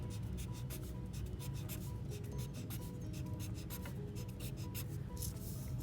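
A Sharpie marker drawing on paper, sketching a Greek vase design, gives a steady, close scratchy rubbing with short repeated strokes, continuous and alone.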